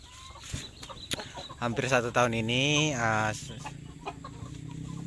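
Free-range village chickens in a rickety farm coop, with a loud drawn-out crow or call rising over scattered nearby clucks and background farmyard noise.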